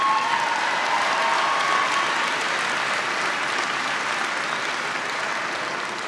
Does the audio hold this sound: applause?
yes